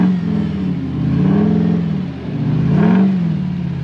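A 1UZ V8-powered Toyota Surf / 4Runner stuck in slippery clay revs hard, its engine swelling and falling in two long surges, loud and close.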